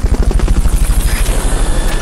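Rapid rhythmic rotor thumping of the Fulton recovery helicopter in Metal Gear Solid Peace Walker, loud and steady with a dense low chop throughout.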